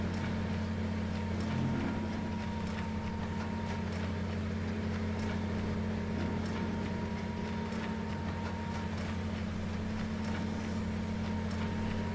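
Ursus tractor engine idling in a farming game, a steady low drone that holds at even loudness throughout, with no speech.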